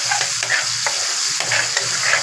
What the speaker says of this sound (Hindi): इसको फ्राई कर लेना है।